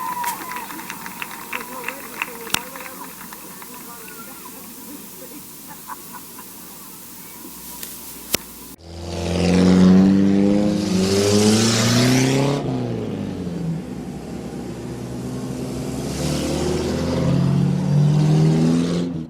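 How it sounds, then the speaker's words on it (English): Race trucks roar loudly at Midvale Speedway, engines revving and surging past in a sustained, heavy drone that rises sharply partway through after a quieter stretch of distant rumble and crowd noise. "And the 49 of Teddy Oliver Jr. brings his truck home in 5th"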